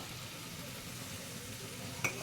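Fried potatoes tip into a pan of sizzling, oil-separated spice paste for an egg curry, giving a steady loud frying hiss with stirring scrapes and a brief clatter near the end.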